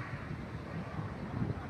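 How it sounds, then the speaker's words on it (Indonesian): Outdoor wind buffets and rumbles across the microphone in a steady, low roar that continues through the whole moment, with no clear speech over it. "Banyak angin."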